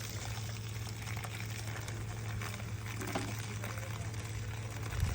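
Water flows from a single open tap on a septic pressure manifold fitted with a 3/4-inch valve on a 1-inch line. It makes a steady close rushing and splashing that swells slightly at the end, with no speech.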